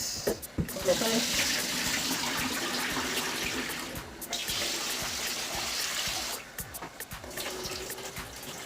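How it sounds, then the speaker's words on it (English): Rice washed by hand in water for jollof rice in a home kitchen, running tap water and sloshing with grains swirled in a pot, close and steady with short pauses and a few clinks. "Wash the rice. I always wash my rice."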